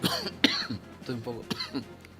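A few sharp, harsh coughs and throat-clearing bursts, close and fairly loud, in a short sequence with brief pauses between them.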